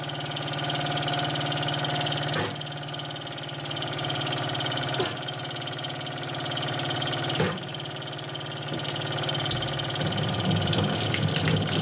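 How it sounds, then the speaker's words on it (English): Water runs continuously as things are rinsed off, a steady rushing flow with a low background hum and a few sharp clunks of items being handled. "Rinsing things off here."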